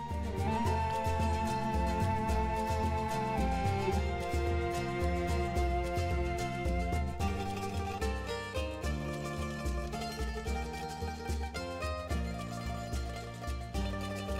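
Fantasy-style music from the game Visions of Mana plays with lute and flute over a layered backing, dense and continuous at a moderate level, with no voices.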